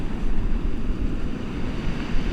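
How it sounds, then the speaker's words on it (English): Loud, steady rush of choppy sea waves at East Preston, West Sussex, mixed with blustery wind buffeting the microphone, a continuous deep roar with no pauses. "the sea's loud, the wind is blowing"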